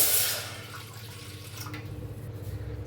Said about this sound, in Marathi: त्याच्यात ओतूया एक वाटी पाणी